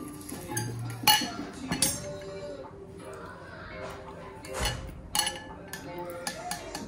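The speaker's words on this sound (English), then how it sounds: "And then just whisk that all together." A garlic and honey marinade is whisked in a bowl with a metal whisk. Close clinks and taps of the whisk against the bowl come in uneven strokes over a low background hum.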